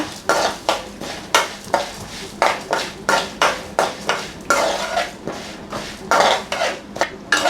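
Black gram (urad dal) is dry roasted in a pan for chutney, the dry lentils rattling and scraping under a spatula in quick, rhythmic strokes, with metallic clinks of the utensil against the pan.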